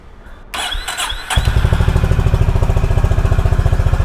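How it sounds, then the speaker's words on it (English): A Honda H'ness CB350 motorcycle engine is cranked with a couple of short starter whirs, then catches and settles into a loud, close, rhythmic thumping idle. "you got to turn on the motorcycle engine. I mean, crank the engine."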